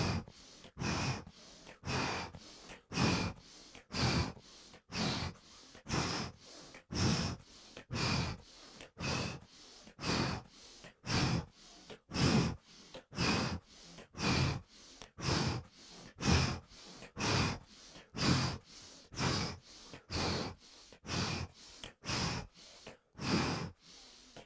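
Rhythmic, forceful breaths in and out during a kundalini yoga session, about two per second, close and loud and steady for the whole stretch, with no talk over them.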